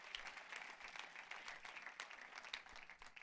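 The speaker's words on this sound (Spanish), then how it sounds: "Denle un fuerte aplauso al Todopoderoso." A church congregation applauds in a steady, dense wash of clapping that continues for the whole stretch at moderate volume, with no voices standing out above it.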